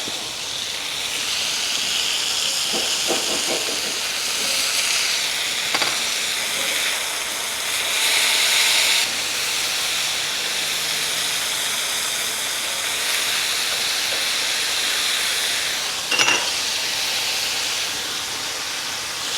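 Burger patties sizzling in a pan just after being flipped, a steady bright hiss of frying fat with a few small pops and crackles, continuous and close throughout.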